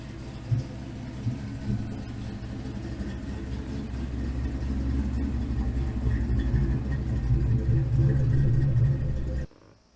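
A 1992 Ford Fox body car idles with a steady low engine rumble, swelling slightly in the middle, before cutting off abruptly at the end.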